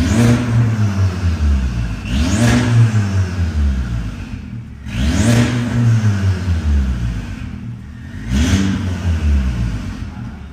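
A turbocharged Volkswagen Jetta GLI making about 310 horsepower at the wheels revs hard three times, each loud, close rise in engine pitch dropping back between pulls, with no voices.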